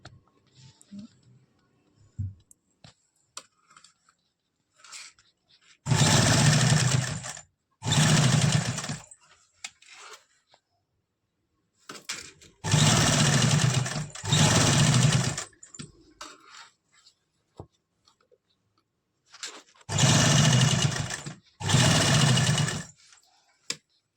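A sewing machine stitches piping onto a frock in three separate runs, each a loud, close, steady whirring burst of a couple of seconds with a brief pause inside it, separated by quiet handling clicks.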